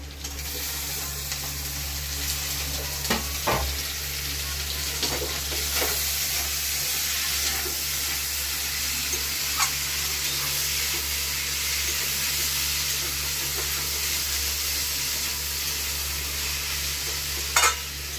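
Continuous sizzling of chopped tomatoes and green chillies frying in a pan, close and steady, with occasional scrapes and clicks of stirring.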